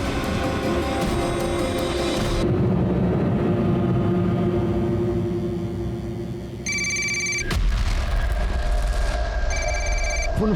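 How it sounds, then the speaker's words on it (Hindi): A telephone rings repeatedly in short electronic bursts over a steady rumbling background, with another ring pattern returning near the end. "फोन उठाओ, स्पीकर फोन करा।"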